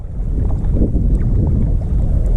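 Steady wind buffets the microphone at a small pond while shore fishing with a light LRF rod, a low continuous rumble with faint water and gear noises and no talk.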